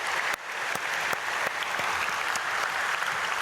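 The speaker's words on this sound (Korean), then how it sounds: "우리 박수로 축복하겠습니다" A church congregation at an early-morning prayer service applauds to bless students, a full, even roar of many hands clapping that holds steady and loud throughout.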